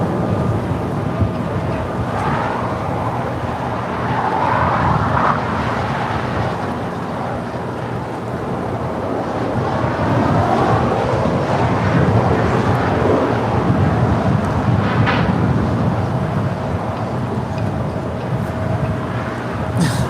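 A DHL Polar Air Boeing 747-8 arriving from Seoul on runway 25 left at LAX, a steady broad jet roar that swells slightly and rumbles on for the whole stretch, heard from a distance with no talk.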